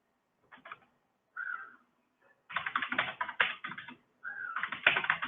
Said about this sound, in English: I'm basically typing out a standard reply